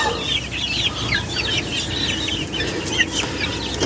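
Growing chicks and chickens cluck and cheep steadily from close range at a Filipino gamefowl farm, busy overlapping calls over low barnyard rumble, with no talking.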